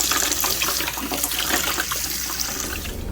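Dyed cotton and silk rinsed under a running water tap, a steady loud splashing stream into a sink that continues throughout with no talking.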